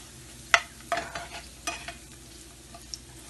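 Desiccated coconut is stirred and dry-roasted in a pan, producing faint scraping and light rustling strokes at an uneven rhythm, with no talking.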